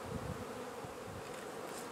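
Honey bees hum and buzz inside a medium hive body during a beekeeping class, a dense continuous drone close by with no voices.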